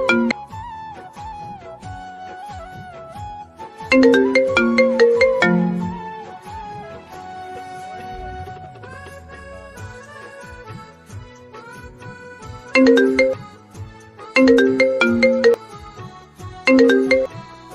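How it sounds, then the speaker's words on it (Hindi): An iPhone ringtone plays for an incoming call, a loud melodic marimba-like pattern repeating in bursts with quieter tonal stretches between them. "यार आईफोन वाले के बड़े काल आ रहे हैं यार"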